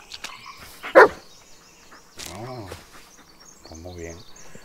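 Dog in the Blair Witch video game, a couple of sharp barks and yips near the start, followed by soft whining or panting sounds, with someone speaking briefly over it.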